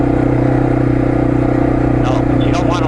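A dirt bike motorcycle on a trail, its engine droning in a loud, steady, buzzing putter that fills the whole stretch, with a voice talking briefly over it toward the end.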